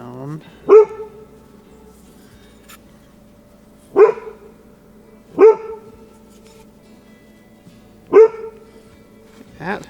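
A dog sitting on a lap lets out four loud, sharp single barks spaced a couple of seconds apart, each followed by quiet room tone.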